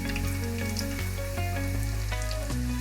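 Chillies, curry leaves, coriander and mint crackle in hot oil for a tempering for raw mango pulihora, a steady close sizzle running alone throughout with faint clinks of stirring.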